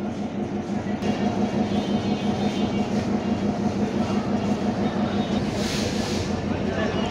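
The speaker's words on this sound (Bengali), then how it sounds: "এই যে ঢাকা ট্রেন চলে আসছে" A Dhaka-bound passenger train pulls into Jessore railway junction, giving a steady, loud rumble and low engine drone that runs the whole time, with station voices heard faintly underneath.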